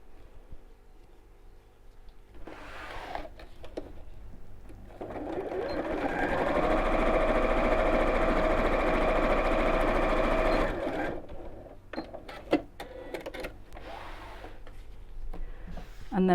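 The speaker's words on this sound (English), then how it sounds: "We'll just sew across here." Sewing machine stitching the sides and base of a child's fabric backpack together, a rapid close mechanical chatter running steadily for several seconds between quieter handling noises and brief pauses.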